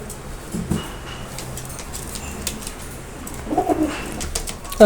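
Soft coos of Teddy pigeons over a steady hum of background noise, with a slightly louder burst of cooing near the end.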